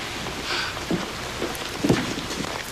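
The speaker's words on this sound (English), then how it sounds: "It's raining." Rain falls outdoors in a steady, soft patter with a few faint heavier thumps mixed in, moderately quiet and continuous throughout, with no voices.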